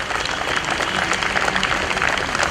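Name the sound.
applause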